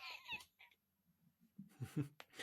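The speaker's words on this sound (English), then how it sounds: "That's just a playful cat in the background" A playful cat meows in the background in short, fairly faint calls, with a few soft noises scattered between them.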